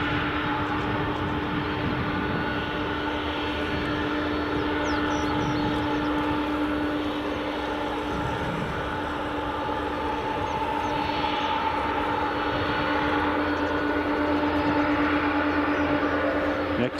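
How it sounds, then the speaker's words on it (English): Qatar Airways Boeing Dreamliner arriving at Edinburgh Airport on runway 24, a steady distant jet rumble with a faint whine, continuous and fairly soft. "Next in is the Qatar Airways Dreamliner"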